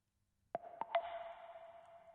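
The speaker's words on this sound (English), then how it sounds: "then we have this wood block" Three quick hollow knocks of a wood block, each ringing into a long, bright reverberant tail that fades slowly.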